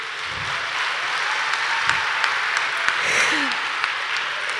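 Steady applause from an audience at the ANR National Awards ceremony, a dense, continuous patter of many hands filling the hall at even loudness throughout, with a few sharper claps standing out.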